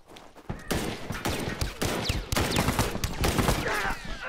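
Rapid bursts of gunfire crackle in a shooter video game, loud overlapping volleys and single sharp shots firing almost continuously over a few seconds, close and busy.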